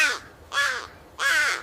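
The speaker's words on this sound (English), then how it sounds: "This is a crow." A crow gives three loud, harsh caws, evenly spaced about half a second apart, close by and clear with nothing else around them.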